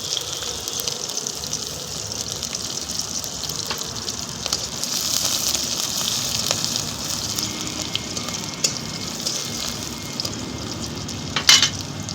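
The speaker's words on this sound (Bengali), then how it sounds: "এইবার এই লঙ্কা পেঁয়াজ তেজপাতা এইগুলো একটু নেড়ে নিলাম।" Chopped onion, green chilli and bay leaf sizzle in hot oil in a pan for a banana-flower dish, with a steady frying hiss broken by scraping stirs and a sharp clink near the end.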